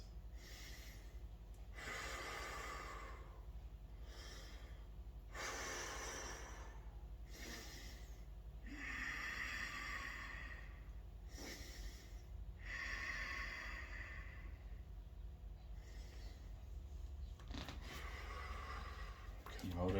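Slow, deep nasal breaths during a yoga pose, several long inhales and exhales in a steady rhythm, faint and close, with a voice speaking between them.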